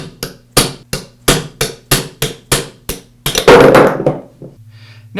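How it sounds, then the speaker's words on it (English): A hammer striking a punch knocks a bearing off the spindle of a Makita grinder held in vise jaws, giving about a dozen sharp, close metallic blows in a steady rhythm, then a brief rattle. "Now I can use a punch and a hammer to remove the bearing."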